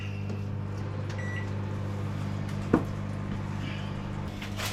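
A microwave oven heating sausages runs with a steady low hum and whir, with a brief faint knock partway through and no talking.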